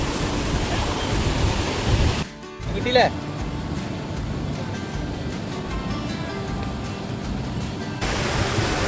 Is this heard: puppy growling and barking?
no